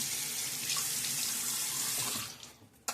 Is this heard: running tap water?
yes